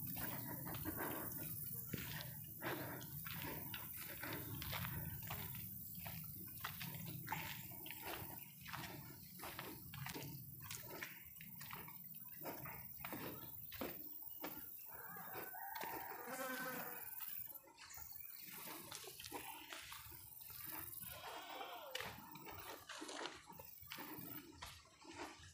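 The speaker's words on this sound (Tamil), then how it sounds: "என்ன சவுண்டு, தண்ணி போகிற சவுண்டா?" Water flows in a hill village near elephant country, a continuous wash under frequent chicken clucks and a rooster crowing nearby.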